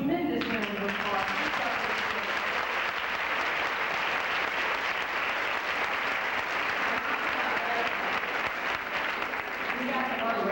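Dense, sustained audience applause fills a hotel ballroom at a fashion show, steady and loud throughout, with faint voices near the start and end.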